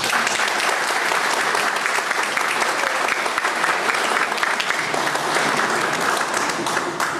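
Loud, dense, sustained applause from a conference audience at a bar association lecture on the temporal validity of law, welcoming the speaker. The clapping fills the whole stretch evenly.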